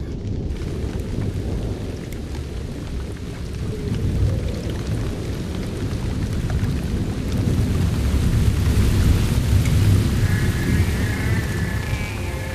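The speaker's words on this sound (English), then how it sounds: "And the rain keeps falling." Heavy rain pours steadily in a dense, continuous hiss, with rolling thunder rumbling low underneath throughout and building toward the end, no voices present.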